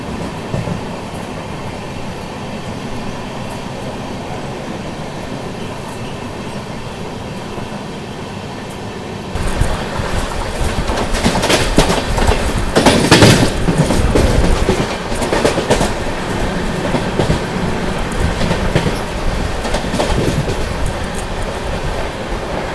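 The 12621 Tamil Nadu Superfast Express runs at speed past the Kazipet bypass, heard from inside a 2AC coach as a continuous loud rumble with clickety-clack wheel beats that grow louder and harsher partway through.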